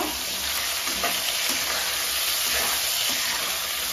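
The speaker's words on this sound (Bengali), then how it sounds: "এবারে আলুগুলোকে ভাজতে দিয়ে দিচ্ছি।" Potatoes frying in hot oil in a pan for a Bengali jackfruit curry, giving a steady, close, dense sizzle with faint stirring scrapes and no talking.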